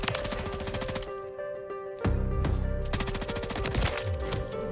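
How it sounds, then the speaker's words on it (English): A new LMG fires in Modern Warfare III in loud, rapid automatic bursts, with a brief lull and then a heavier, sustained stretch of fire. "We got this insane new LMG and I'm just vibing with it"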